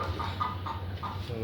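Soft, repeated clucking from a large, heavy tiger-breed hen weighing about three and a half kilograms, arriving as several short bursts at a steady pace over a low background hum.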